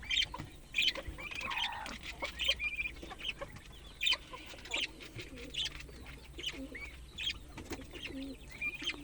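Chickens and freshly hatched chicks on a small farm cluck, cheep and peep almost nonstop at close range, with occasional wing flaps and no talking.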